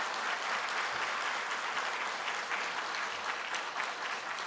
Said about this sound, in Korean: 수고하신 목사님, 사모님 또 인사하실 때 큰 박수로 격려하며